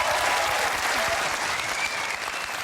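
A studio audience at a magic-trick game show applauds in a dense, loud, even wash of clapping and cheering that keeps going throughout.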